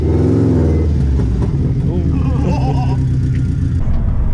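A freshly revived project car's engine revs hard, its turbo spooling up with a rising whistle and flutter, loud and close while people talk over it.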